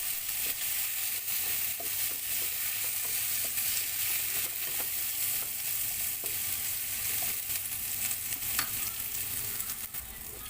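Tomato sautéing in a pan for a Filipino pork mongo stew, a steady close sizzle with soft stirring scrapes running throughout, no talking.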